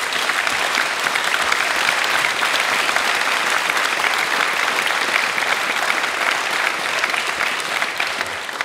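A lecture audience at a 2022 farewell event applauds Edwin Woerdman, steady dense clapping from many hands that holds loud and even throughout without speech.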